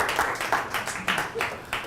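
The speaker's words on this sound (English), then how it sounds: "round of applause for my smoothie man right here" A small audience claps in a brief round of applause, a burst of hand claps with rhythmic peaks, fairly close and moderately loud, with no talk over it.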